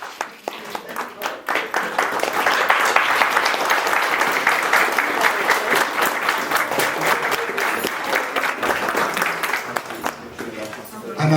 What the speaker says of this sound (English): if we could give a nice big cheer whilst we raise our glasses to my beautiful wife